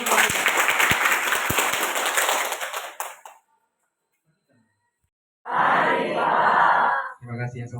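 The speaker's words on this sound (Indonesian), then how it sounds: "Tepuk tangan untuk kita." Students clap together in a classroom for about three seconds, dense and fairly loud, then a short silence before a second burst of applause with murmured voices at the end.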